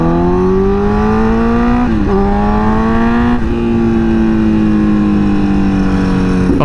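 A liter-class motorcycle roars under hard riding, its engine note climbing steadily through the gears with brief dips at each shift, loud and continuous with no talking.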